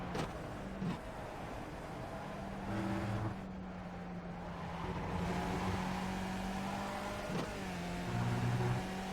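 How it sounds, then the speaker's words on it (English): A Skip Barber race car in iRacing at Le Mans shifts down through the gears, its engine note dropping and surging in steady tones with sharp blips at each downshift, moderately loud and without voices. "dropping from 5th to 4th probably isn't as important as when I'm dropping down to 2nd. As you can hear, the engine is very unhappy about it."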